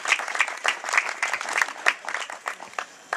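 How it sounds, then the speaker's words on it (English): A group of veterinary staff applauds Dr. Ryan at a farewell gathering for Willy, producing dense, lively clapping at close range that holds for a few seconds and then begins to thin out. "maybe another round of applause for him"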